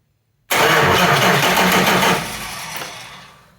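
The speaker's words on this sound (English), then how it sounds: "I'm just jump starting it with this starter wire right here." A car fitted with an 850 double-pumper carburetor is jump-started with a starter wire. The engine catches abruptly and roars loudly up close, then settles into a steadier, slightly quieter run.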